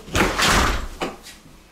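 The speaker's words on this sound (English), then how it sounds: "let's see what's behind this door. Oh, your garage." A door leading to the garage in a new model home opens, with a quick rattling thump and swish followed by a lighter knock as it settles, close by.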